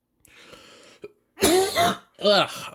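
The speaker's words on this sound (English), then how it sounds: "I hate my cough because it kind of hurts my side too" A person with a painful cough clears their throat softly, then lets out two harsh, close coughs in quick succession, alone and fairly loud.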